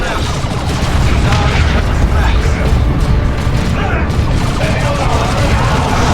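Grenade blasts and gunfire rumble through a Warhammer 40,000: Dawn of War 2 Chaos Rising battle on an icy map, a dense, loud, continuous wall of booms and mechanical clatter.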